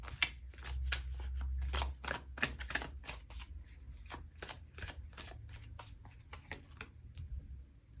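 Tarot cards being shuffled, a quick series of crisp riffling snaps and soft slides, close and quiet, with no talking.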